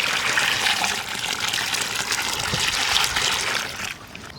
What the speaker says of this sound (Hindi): पानी और शामिल करेंगे क्योंकि उसको अच्छी तरह मिक्स करना है।